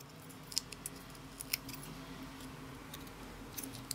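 Small snips and clicks of scissors cutting a foam dimensional adhesive in half for a handmade card, several faint sharp ticks spaced irregularly over a steady room hum, no talking.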